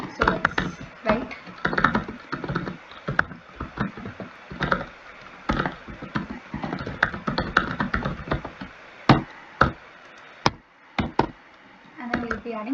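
Keys clatter on a computer keyboard as C code is typed, in bursts of fast taps with a few sharper keystrokes. The typing is close and keeps going, with a brief pause near the end.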